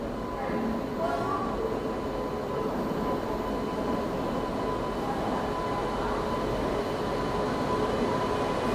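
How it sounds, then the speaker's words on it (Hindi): A Humsafar Express hauled by a Lallaguda-shed WAP7 electric locomotive arrives at a station, a continuous loud rolling rumble of coaches and wheels filling the whole stretch without letup. "WAP7 के साथ फाइनली अपनी हमसफ़र एक्सप्रेस पहुंच रही है यहाँ पे"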